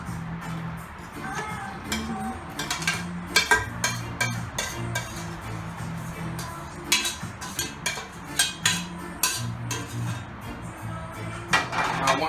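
Veggies and sausages are stirred into a roux in a pot over medium heat for Caribbean seafood gumbo, with a spoon scraping and clinking against the pot in an uneven, constant rhythm.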